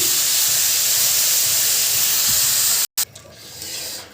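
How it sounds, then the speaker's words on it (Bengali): Water poured onto hot fried rice with yogurt in a pan, a loud sustained hiss of steam that breaks off briefly, then returns more quietly and swells again. "টক দই দিয়ে পানি দিয়ে দিবেন।"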